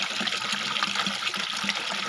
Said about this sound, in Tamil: தண்ணி நல்லா வருது பாருங்கள் மோட்டரில்